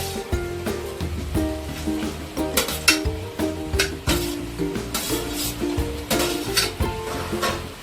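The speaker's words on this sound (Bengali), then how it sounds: "ফুটে গেছে, আমি এতে সয়াবিনগুলো দিয়ে দেবো।" Soybeans sizzle and fry in a pan for a Bengali-style recipe, with scraping, clinking stirs of a spoon against the metal at an irregular rhythm, close and fairly loud, no talking.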